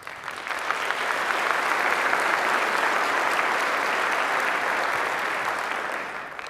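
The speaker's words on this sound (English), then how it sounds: "That was probably Steve leading the applause." Steady, even applause fills a hall during the 2018 State of the County Address, swelling in gently and holding at a moderate level before easing off near the end.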